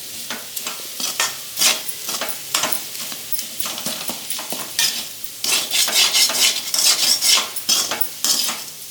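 Banana flower usili being stirred and sautéed in oil in a pan, with repeated scraping and clinking strokes over a steady sizzle, loud and close, with busier stirring toward the end.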